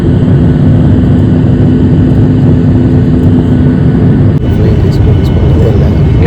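Steady loud roar of an airliner cabin during a turbulent flight into Malaysia, a constant engine drone with one brief jolt partway through.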